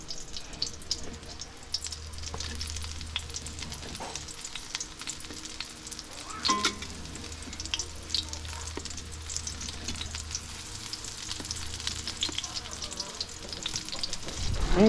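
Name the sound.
eggplant frying in oil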